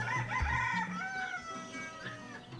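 Chickens cluck and a rooster crows outside a house on the outskirts of a village, a strained, drawn-out call over steady low background noise, moderately distant.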